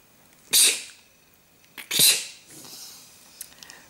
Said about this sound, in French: Je dois éternuer, pardon.